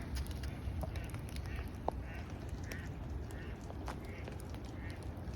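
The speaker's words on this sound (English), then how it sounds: "Whose duck's taunting you, Cern?" A duck quacks several times near a riverside forest path, faint, short calls spread over a steady wash of background noise, without talk.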